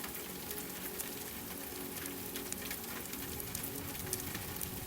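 Steady rain patters and hisses on a surface, an even wash of fine drops with no voices.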